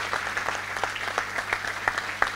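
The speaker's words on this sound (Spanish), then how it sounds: "fuerte el aplauso para la familia también" An audience at a book presentation applauds the family, with individual claps distinct in a loose, uneven rhythm and a low hum underneath.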